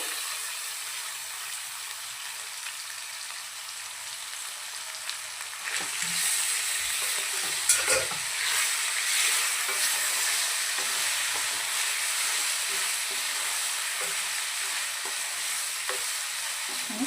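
Goat tripe (boti) and onions fry in a pan with a steady, close sizzle that grows louder partway through as the pieces are stirred, with occasional soft scraping and no talking.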